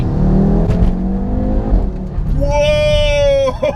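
A hybrid-turbo 500 bhp Audi RS3 8P accelerates hard, its engine note rising in pitch through a strong rev climb near the end, with road and cabin noise throughout and talk in the car over the first half.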